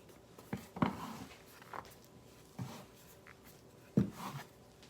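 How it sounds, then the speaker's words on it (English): A bench scraper folds flour into strawberry scone dough on a counter, giving soft scraping and dull thuds at irregular intervals, close by, with no talk. "Get your bench scraper and just fold it in."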